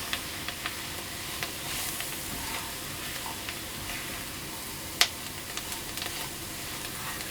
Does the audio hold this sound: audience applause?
no